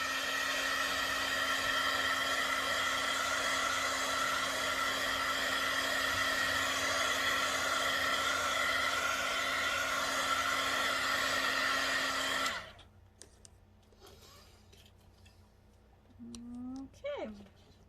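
A hair dryer blows steadily and loudly on a photo texture for about twelve seconds, then switches off, leaving quiet room sounds and a brief voice.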